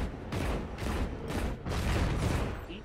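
Rapid gunfire in the Destiny 2 Beta, a dense run of shots forming several loud bursts with brief gaps, heavy and continuous against a busy game background.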